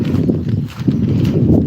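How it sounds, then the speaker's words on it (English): A pony's hooves clip-clop at a walking pace on an outdoor walk, steady and fairly close, with the rhythmic footfalls continuing throughout. "Although we've got a pony."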